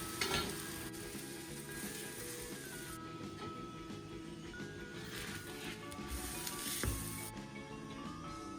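A Dhaba-style Punjabi aloo paratha fries in butter on a griddle with a loud, continuous sizzle and crackle, plus a faint hum in the background.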